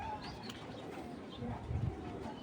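Racer pigeons give soft, low cooing near the end, faint against a steady background hiss, with no voices.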